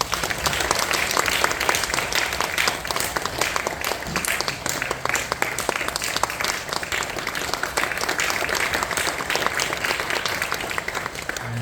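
A church congregation applauds steadily and warmly for about twelve seconds during a Korean Sunday service, honouring a new member's completion of a course.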